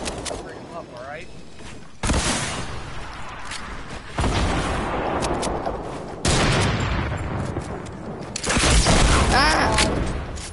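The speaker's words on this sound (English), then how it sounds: "I'm gonna fire a rocket" Explosive blasts in a video game, the likely rocket launch among them, hit in loud, regular bursts about every two seconds over a constant rumbling background.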